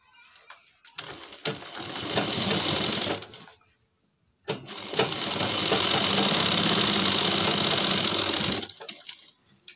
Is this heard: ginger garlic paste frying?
no